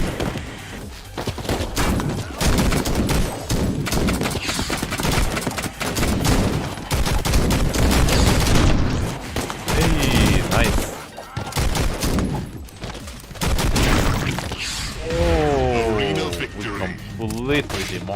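Desert Eagle pistol fire in an online shooter game: loud, rapid, densely packed shots and impacts run almost without pause, mixed with a voice speaking over the action.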